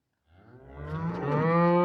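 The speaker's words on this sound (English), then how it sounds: "Come on, cows." A single cow on a farm in the muddy spring season gives one long, loud, close moo that swells steadily in strength and carries on to the end, with no one talking.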